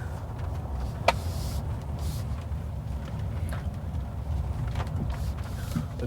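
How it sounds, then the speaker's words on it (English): A Ford F-150 Lightning Lariat electric pickup rolls over a rough gravel road with a steady, fairly quiet low rumble and occasional small ticks from stones, with no engine note. "It's time to try it on some gravel, a bit of a rougher roads, to see how it behaves"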